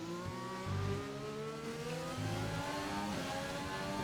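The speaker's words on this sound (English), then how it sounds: "Balzac, who is literally pushing that Red Bull along the track" Race cars lapping the Singapore street circuit in a racing video game, a Red Bull and a McLaren among them: steady high engine whine with rising and falling revs, loud and continuous, no talk.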